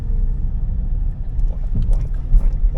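A car in second gear rolls off over a speed bump during a driving test on the Kagiso route, heard from inside as a steady low engine rumble with soft thumps and bumps as it crosses.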